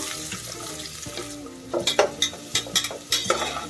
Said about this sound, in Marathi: कांदा आपल्याला चांगला परतून घ्यायचा आहे